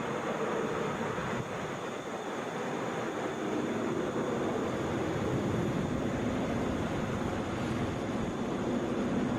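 A Delta Boeing 717 arriving from Asheville touches down at Atlanta airport, a steady broad roar of jet engine and rolling noise at moderate distance that holds throughout without any voices.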